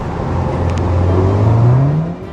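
An Audi S1 engine revs up hard against a slipping clutch, the pitch climbing steadily in a loud, close drone before easing off.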